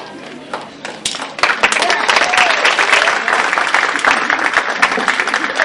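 Audience applause at a scholarship banquet, a dense crowd of clapping hands that swells after a second and holds steady and loud, with a few voices mixed in.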